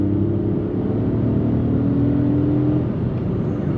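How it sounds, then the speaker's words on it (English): A 2024 Kia Picanto's 1-litre three-cylinder engine, 62 horsepower, accelerates from a standstill with a brief wheel spin, a steady mid-pitched drone heard close from the cabin with no talking. "already it's got a really cool tone to the engine. It's almost like a kind of boxery kind of sound"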